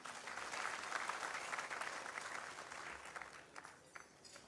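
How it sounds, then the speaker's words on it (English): Audience at an event in Kenya applauding themselves, steady dense clapping that is fairly faint and distant, tapering off toward the end. "Can you clap for yourself?"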